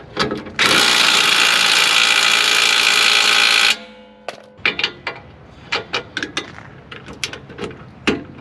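A ratchet wrench tightens the nut on a Pontiac G8 front strut: a loud sustained burst of rapid ratcheting clicks, then a halt and a scattered run of sharp, separate clicks and metallic knocks close by.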